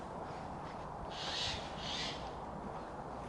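Two short, hoarse bird calls sound faintly from a distance in Nursling Forest, a half-second apart, above a low outdoor hiss.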